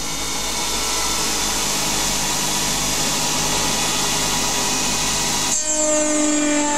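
A CNC lathe turning hex steel stock for a vintage BSA motorcycle part spins up to 3000 RPM with a loud, steady mechanical whine and hum, shifting pitch abruptly near the end.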